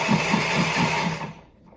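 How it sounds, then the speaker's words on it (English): A blender whirs loudly and steadily while mixing a raw vegan dressing, a close, continuous motor roar that cuts off and fades after about a second and a half. "we'll take it over to the blender. It'll be loud for a second."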